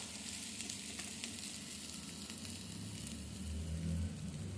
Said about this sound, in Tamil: வெங்காயம் நல்லா வதங்கிடுச்சு இப்போ மசாலா ஆட் பண்ணுறோம்